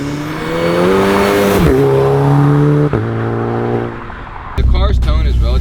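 A VW MK6 GTI with a stage 3 turbo setup revs loud and close, pitch rising and dropping through several pulls, with a sharp rev and throaty bark near the end while a voice talks.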